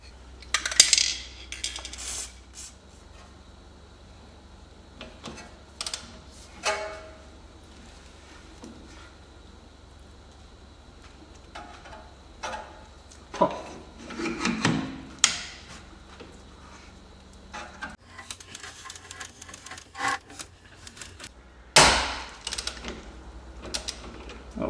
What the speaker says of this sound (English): what I have is a T60 to get the lower end of the gas strut loose